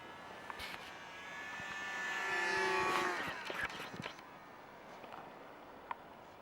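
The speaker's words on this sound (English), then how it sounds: "That's how you land a plane." A small electric motor on an RC model airplane whines as the plane comes in to land. Its pitch rises and then falls as it passes by outdoors at moderate distance, over a steady background hiss.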